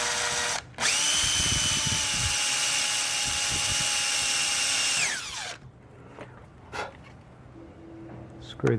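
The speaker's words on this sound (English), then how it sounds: "then put my screw in there" A power drill whines loudly and steadily for several seconds driving a screw while installing an outdoor shower, then winds down and stops, followed by a few small clicks and handling sounds.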